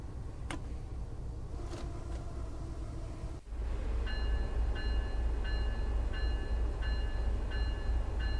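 An MBTA commuter rail train on the Worcester line pulls out of Grafton station in Train Sim World, a steady low rumble rising after a brief dip, with a repeating high electronic chime pulsing over it.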